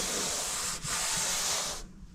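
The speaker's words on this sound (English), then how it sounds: "I'll take my sander and I'll go and sand all this smooth" A power sander works across a carved foam dashboard for a custom car build, a steady, loud, close abrasive hiss that drops out briefly midway, then stops near the end.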